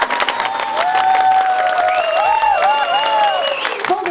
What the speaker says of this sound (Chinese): 我希望家长给老师一个最支持的掌声